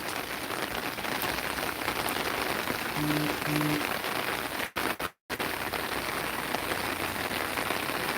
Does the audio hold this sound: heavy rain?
yes